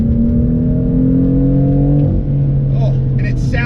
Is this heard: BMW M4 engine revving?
yes